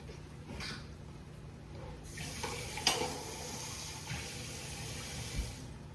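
Food simmering in a pot on a home kitchen stove, giving a soft, steady bubbling hiss with a few faint knocks and splashes, quiet and close.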